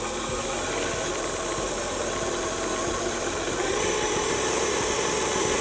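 Electric mixer beating sugar for a pumpkin crunch cake, a steady loud whirring drone close by that gets a little louder and brighter toward the end as the speed goes up.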